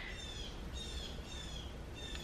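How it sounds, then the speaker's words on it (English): A bird calls in a few thin, high, drawn-out notes over a steady background hiss, fairly faint and somewhat distant. "Hear that bird?"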